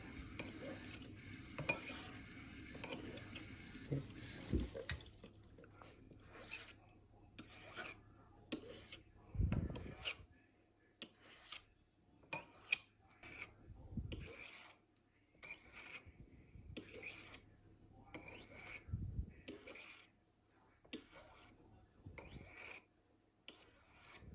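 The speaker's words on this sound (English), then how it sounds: "You can tell from the sound of the knife that it's getting all those burrs" A knife blade scrapes rhythmically across a river-stone sharpening stone in steady, regular strokes, close and clear, after a few seconds of rougher rubbing and handling noise.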